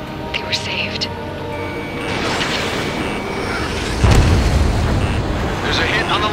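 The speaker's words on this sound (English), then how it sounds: "There's a hit on the laser cannon." Explosion on the laser cannon in Ace Combat 7, a loud booming burst landing about two-thirds through, over a dense, steady roar of battle noise and engines, with voices talking throughout.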